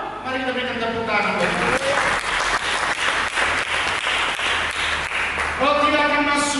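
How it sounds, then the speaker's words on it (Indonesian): Congregation applause during a church service, a sustained wash of clapping that swells in after a preacher's speech and carries on strongly, with his voice talking over the start and again as it fades. "Mari kita berikan tepuk tangan."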